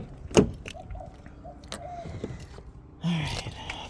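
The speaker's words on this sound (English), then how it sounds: "So let's go ahead and start the truck." Chevrolet Silverado pickup truck engine cranking and catching near the end, after a few quiet clicks and interior rattles from the cab.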